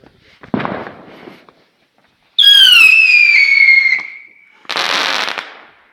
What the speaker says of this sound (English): Looks like we got another firework.